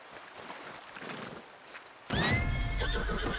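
A horse neighs in a medieval roleplay video game, a sudden loud whinny with hoof clops cutting in after a quiet stretch of ambient background.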